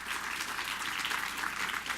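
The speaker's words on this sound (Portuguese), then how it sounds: "Uma salva de palmas para a Beth." Audience applause for a speaker at a Brazilian talk on agriculture and economic productivity, a soft, even patter of clapping from a seated crowd, fairly distant and alone without voices.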